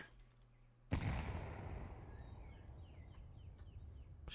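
Grenade in Counter-Strike going off with one sudden sharp blast after a quiet moment, followed by a long decaying rumble and scattered debris-like clicks.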